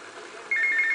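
In Grand Theft Auto: Vice City, an in-game telephone begins ringing halfway through, a steady electronic trill over a quiet background.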